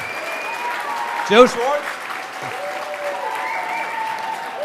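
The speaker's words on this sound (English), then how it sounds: "He wins the applause meter." Audience applause rises for two debaters, Professor Joe Schwarcz and André Saine, at the close of a homeopathy debate; a dense crowd clapping runs steadily throughout, with a host's voice speaking over it and a brief louder burst midway.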